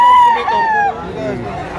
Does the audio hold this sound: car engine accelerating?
no